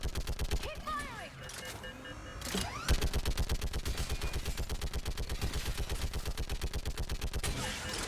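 Rapid automatic gunfire from a Mass Effect 3 firefight, a dense steady burst of rhythmic shots running for several seconds after a brief lull, with voices talking briefly early on.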